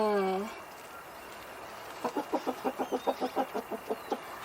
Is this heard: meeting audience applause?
no